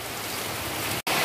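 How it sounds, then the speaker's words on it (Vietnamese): Heavy rain pours down on a street in Huế, a dense, loud, even hiss filling the scene with a brief dropout near the end. "Đây chúng ta nghe thấy mưa Huế á, giờ mưa có vẻ là lớn hơn rồi, to hơn rồi."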